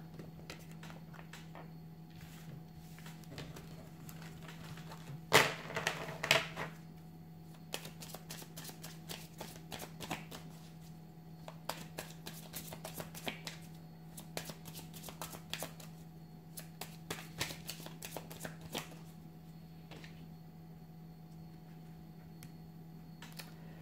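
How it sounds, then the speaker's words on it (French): Tarot cards shuffled by hand in an unusual way so some end up upright and some reversed, with soft irregular flicks and riffling snaps over a low steady hum, a denser burst early on. "je vais mélanger les cartes d'une façon un petit peu bizarroïde pour avoir des cartes à l'endroit et à l'envers"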